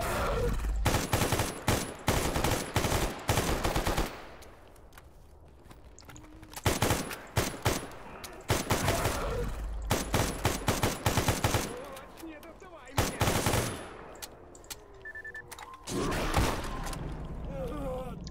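Repeated bursts of rapid automatic gunfire in the video game Stalker: Gamma, loud and close, separated by short pauses with quieter movement and ambience between volleys.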